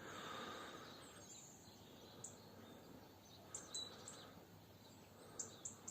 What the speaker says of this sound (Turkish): Sesi dinlemenizi istedim sadece. Kuşların sesini.